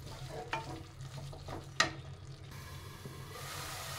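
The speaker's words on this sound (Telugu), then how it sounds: "ఇదంతా మంచిగా కలిసిందాక కలుపుకోవాలి" A utensil stirs roughly fifteen cloves of crushed garlic through amaranth leaves in a pan, making soft scraping strokes and occasional faint clicks over a quiet, steady sizzle.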